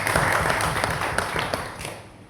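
An audience at a civic gathering in Mbale applauds, a moderate wash of scattered clapping that holds steady and then fades away toward the end, with no talk over it.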